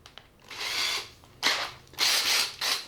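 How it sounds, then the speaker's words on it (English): A sanding drum is fitted into a power drill, with four short whirring, ratcheting bursts from the drill's chuck, close and fairly loud, separated by brief pauses. "We'll set it in place. Let's put it in the drill."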